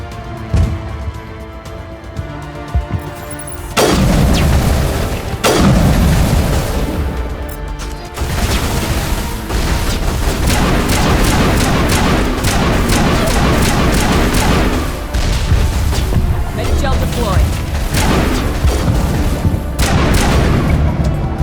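Geth Flyers blown apart in Mass Effect combat: after a quieter start, a loud sustained barrage of booming explosions and rapid gunfire impacts continues almost without pause.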